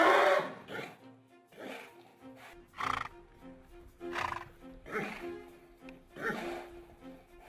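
A nervous, agitated horse neighs and whinnies in a series of repeated calls at moderate distance, with some faint hoof or movement noise between the calls.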